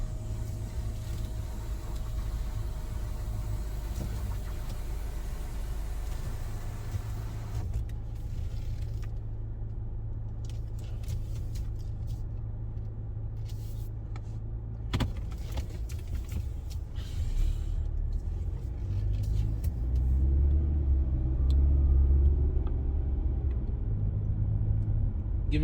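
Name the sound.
car driving on the road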